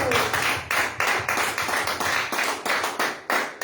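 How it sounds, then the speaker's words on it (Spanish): A church congregation claps together in a steady rhythmic beat, each clap sharp and close, repeating at an even pace with no speech over it. "Dale un aplauso."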